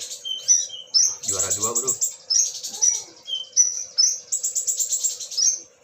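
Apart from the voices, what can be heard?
pet bird chirping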